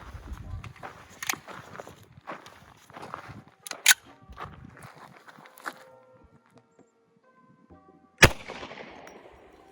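Large-calibre pistol round fired at a ballistic helmet outdoors, one sharp, loud gunshot crack near the end, preceded by scattered footsteps, handling clatter and a few softer knocks and bangs, with faint voices in the background.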